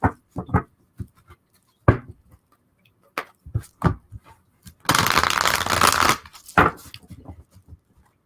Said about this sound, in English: we want 2 more shuffles on this